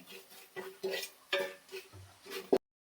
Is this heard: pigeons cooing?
no